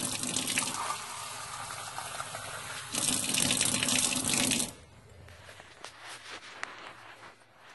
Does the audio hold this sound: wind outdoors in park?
no